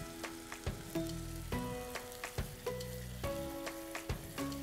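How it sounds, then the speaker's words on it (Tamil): Ground onion paste with a spoonful of ginger-garlic paste sautéing in hot oil crackles and sizzles up close, broken by a series of sharp spatula knocks and scrapes against the pan, with no voices. "இப்படியே ஒரு 2 நிமிஷம் இதை நல்லா வதக்கிக்கணும் அந்த ரா ஃப்ளேவர் போகிற வரைக்கும்"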